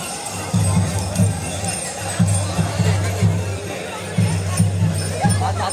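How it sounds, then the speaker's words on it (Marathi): Dense crowd of devotees packed together at an Ekadashi palanquin procession for Dev Rameshwar, a steady close hubbub of many overlapping voices with a low rhythmic pulsing beneath it throughout. "गर्दी झाली जाम."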